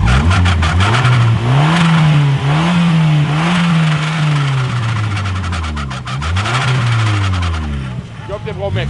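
A Volkswagen Golf engine revs loudly and close, rising and falling in several sustained swells with a whirring drone between them.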